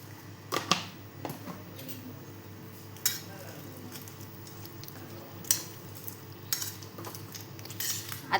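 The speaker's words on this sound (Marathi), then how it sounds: "आता आपण सगळं ते एकत्र करून घेतलेलं मस्तपैकी." A utensil clinks and scrapes against a bowl as papad crumbs, fine sev, lemon and salt are mixed, with scattered sharp taps over a quiet background.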